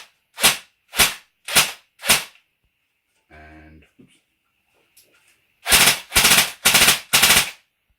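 Armalite licensed M15A4 airsoft replica firing, four separate single shots, then a brief mechanical whir, then a rapid run of five shots, close and loud.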